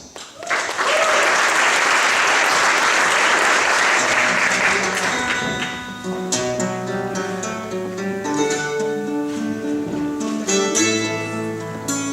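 A concert audience at a university fall concert breaks into loud, dense applause for about five seconds, then instrumental music starts and carries on as the clapping fades beneath it.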